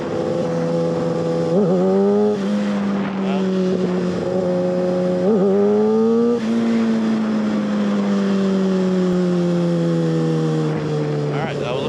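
A 600cc super sport motorcycle engine revs repeatedly during a wheelie attempt, climbing and dropping in loud, close surges while the rider talks over it.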